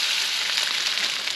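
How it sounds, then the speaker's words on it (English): Steady, crackling sizzle of lard frying in a pan, close and continuous with no talking. "lard in the frying pan"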